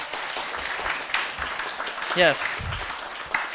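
An audience at a Sunday church service breaks into brief applause, a short burst of clapping heard alongside a speaking voice.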